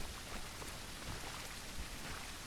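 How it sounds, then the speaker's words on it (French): Steady rain in the video game The Isle, in a swamp, patters densely on surfaces, an even, soft hiss with occasional heavier drops, no voices. "Ils font pas semblant hein, quand ils mettent de la pluie sur le jeu."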